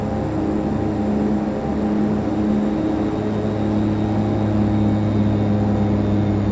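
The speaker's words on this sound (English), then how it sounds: "you can still, hear the plane and all the sounds and everything." A de Havilland Twin Otter's twin turboprop engines in Flight Simulator X drone steadily and loudly throughout, a constant cockpit hum with a fixed pitch and no talking.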